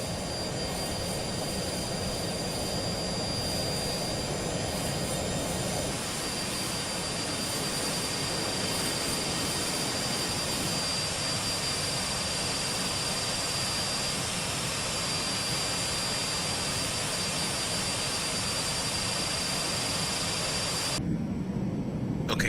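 Jet engine roar during a takeoff roll in a flight simulator game is a loud, steady whoosh with a high whine that holds for the whole stretch and cuts off abruptly near the end, with no talking.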